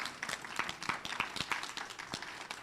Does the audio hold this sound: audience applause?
yes